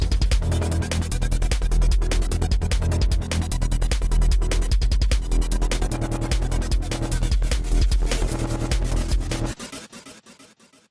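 Dense, busy music with smeared, stuttering repeats that pile up chaotically, then cut off abruptly near the end, leaving a faint tail.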